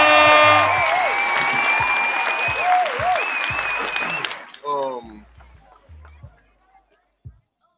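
Audience applause at a live talk show, loud and dense for about four seconds with tonal sounds mixed in, then fading to scattered claps and quiet.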